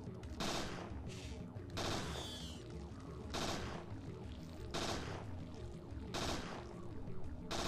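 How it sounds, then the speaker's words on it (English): Gunfire in the video game Parasite Eve 2 rings out as a series of loud, evenly spaced shots, about one every second and a half, over a continuous game soundtrack. "Sit there and just let me shoot them."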